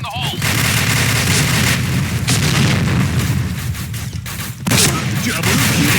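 A grenade explodes in the Point Blank shooter on a hospital map amid dense gunfire, with loud, crowded booms and cracks filling the whole stretch and a brief game voice near the start.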